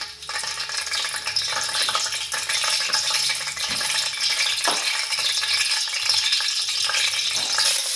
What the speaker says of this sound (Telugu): ఆ తర్వాత మనం కొంచెం మెంతులు ఫ్రై చేసుకున్న తర్వాత ఆనియన్స్ని వేసుకోవాలండి.